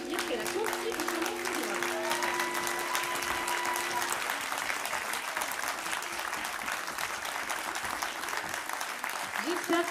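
An audience at the Espace Albert Camus gives a singer sustained applause, a steady wash of clapping heard from a distance at moderate level, with some held musical tones and cheers beneath it at the start.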